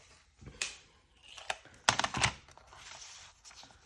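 Scissors cut through tracing paper in a few sharp, close snips and crinkles, spaced irregularly over a few seconds with quiet pauses between.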